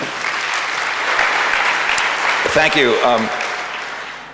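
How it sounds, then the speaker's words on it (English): A symposium audience on morality and criminal justice applauds at the start of an opening statement, a broad, even round of clapping that swells and then fades, while someone speaks briefly over it. "I suspect that will be the last applause I'll hear in the next 2 hours"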